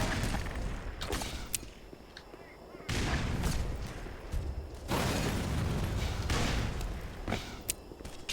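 Grenade blasts in the Black Mesa shooter land as several heavy, booming bursts that each sustain for a second or two, with sharper cracks of gunfire between them and a gap of quieter rumble.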